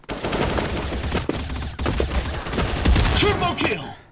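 Rapid gunfire in the mobile shooter Bullet Angel, fired with a free-to-play gun. Dense, close bursts of shots run almost without pause for a few seconds, loud and punchy.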